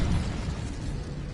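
Incendio fire spell cast in the Hogwarts Legacy video game, a dense roaring burst of flame that starts strong and holds as a rough rushing noise.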